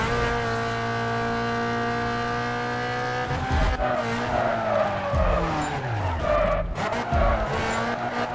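A Toyota Corolla AE86 drifts in the Need for Speed Carbon video game: a steady, droning engine note gives way to loud, continuous tire squeal and skidding as the car slides, with no talking.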